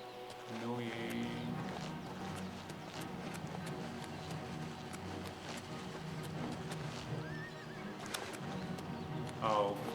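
In Oblivion Remastered a horse whinnies and its hooves clip-clop in quick bursts, moderately close, over ambient game noise with someone talking throughout.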